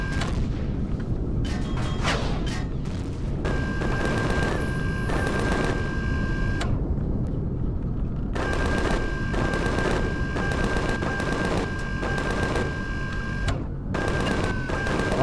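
Tank guns firing in the video game Empyrion Galactic Survival, a fast continuous stream of shots with repeated bursts and a faint electronic tone, loud throughout.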